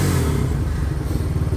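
A Honda 200X motorcycle engine idles close by with a steady, loud, low thrumming putter and no talk over it.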